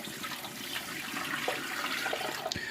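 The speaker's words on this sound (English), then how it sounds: "So this here is the rest of the water I'm going to be putting in." Water pours steadily into a pressure canner being readied for canning turkey, a continuous splashing, gurgling rush close by that runs for a few seconds without talk.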